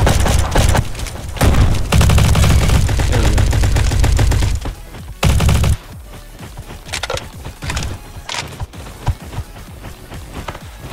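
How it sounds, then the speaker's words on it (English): Repeated shotgun blasts from the Roblox shooter Bad Business, in a King of the Hill match, sound loud and close in bursts with short gaps, then sparser shots and game effects follow. "Whoa, shotgun."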